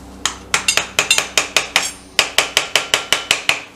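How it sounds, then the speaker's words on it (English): A small hammer taps on the kickstart parts of a Greeves Anglian motorcycle, about sixteen sharp metallic strikes in a quick, fairly even rhythm with a brief pause midway, close and loud in a quiet workshop. "Get my new little hammer out"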